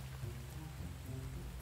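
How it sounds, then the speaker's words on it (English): Steady rain falling in the survival video game The Infected, a continuous soft hiss with faint patter, even and unbroken throughout at a quiet level with no voices. "it's not going to stay on because it is raining"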